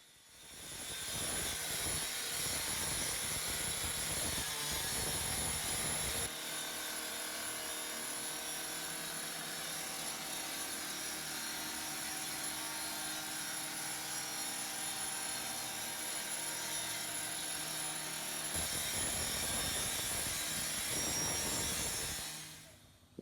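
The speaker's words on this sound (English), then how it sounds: "We even tried the ultimate blade, which is a diamond impregnated blade mainly used to cut concrete." A gas-powered saw with a diamond-impregnated concrete blade cuts through polycarbonate during a forcible entry exercise, a loud high-pitched whining roar that shifts in pitch as the blade bites, then eases back near the end.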